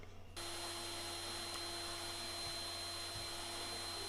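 A wood router cuts a small hinge groove in a cherry box, giving a steady, loud high-pitched whine that starts abruptly and holds unbroken to the end, with no talking.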